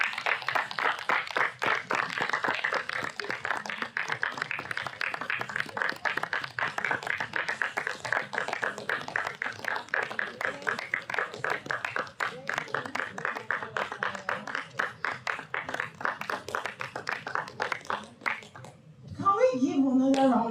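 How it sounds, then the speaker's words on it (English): An audience applauds a keynote speech at a human rights and law symposium, dense sustained clapping from a sizeable crowd that carries on steadily before trailing off as a voice starts speaking. "Can we give another round of applause?"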